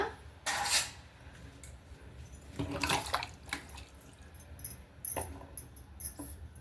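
A spoon clinks and scrapes against a pot while turmeric is mixed into the food for a quick bisibele bath, with several sharp metallic taps spaced apart over faint kitchen background.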